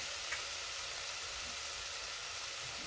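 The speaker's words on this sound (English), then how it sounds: "So we're gonna add the meat directly back on it. It's gonna continue to cook." Browned ground meat and onions sizzling in a pan for lasagna meat sauce, a steady close crackling hiss that runs without a break.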